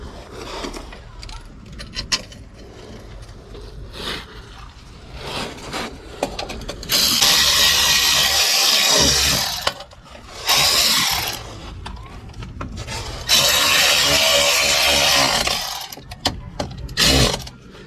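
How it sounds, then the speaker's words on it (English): A 35-pound power ratchet tightening a U-joint clamp on a 1999-2007 GM truck driveline, with several loud, sustained rattling bursts separated by short pauses and quieter clicking, alongside occasional nearby talk. "that just ran on with 35-pound power ratchet"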